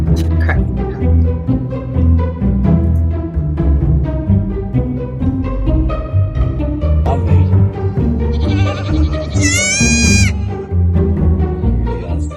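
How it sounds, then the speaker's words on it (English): A small goat bleats, its wavering cry rising briefly above loud, continuous background music near the end. "That little goat was so cute."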